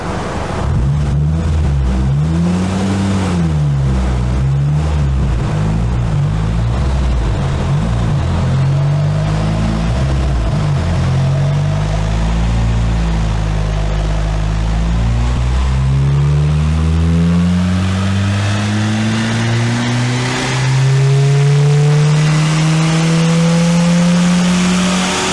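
A Renault Clio 1.2 engine revving on a dyno, its note wavering at first, then climbing steadily in pitch under heavy load, loud and close throughout with no talk.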